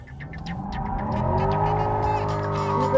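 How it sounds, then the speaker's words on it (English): A 2024 Corvette E-Ray does a burnout, its engine note climbing as the tires squeal with a sustained, rising howl, loud and close. "here's some more cool shots of it doing burnouts"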